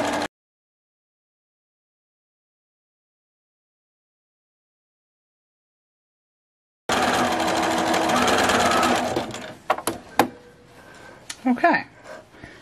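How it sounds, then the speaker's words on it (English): Near silence gives way to a sewing machine backstitching a seam, a loud, steady mechanical whirr of needle strokes that stops, followed by a few clicks and handling noises with a voice speaking briefly. "And I'm going to go ahead and backstitch."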